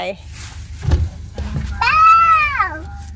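A cat gives one clear, drawn-out meow near the close, following soft thumps and faint background voices.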